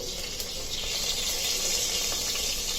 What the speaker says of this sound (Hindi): अच्छा तड़कने लगा गया